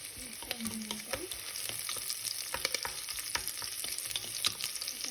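Onion and garlic sauté in a pan for a Filipino pork stew, giving a faint, even crackling sizzle with light irregular stirring clicks throughout and no voices.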